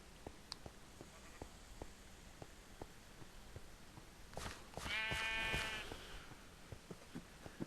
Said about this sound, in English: That poor sheep has been naked ever since I clipped its wool.